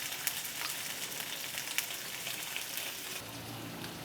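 Mackerel fries in hot oil with a soft, even crackle and a few sharp pops, close but fairly quiet, with no talking.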